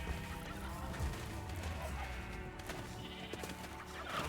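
A sheep in the Minecraft video game bleats in short calls over a low, steady background hum, at moderate volume with no talk.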